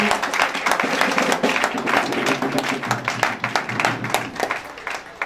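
A church congregation breaks into sustained applause, dense and even clapping filling the room close by, with scattered voices and a few taps mixed into the steady roar of hands.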